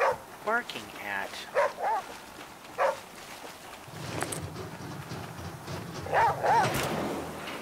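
A dog barks in the video game The Flame in the Flood, several short yips and whimpers scattered between moments of someone talking, set against a soft outdoor ambience.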